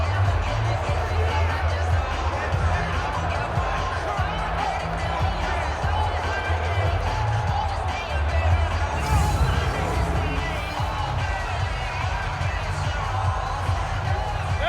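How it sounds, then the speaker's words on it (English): A home crowd roars in a Madden 20 football video game, a dense continuous wall of stadium noise with a commentator talking over it throughout. "that might be exactly what they needed to wake up this home crowd"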